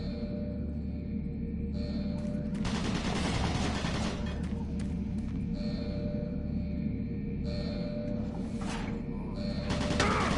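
Automated turret guns in Doom 3 fire in bursts of rapid shots over a steady mechanical hum, a few separate volleys across the span.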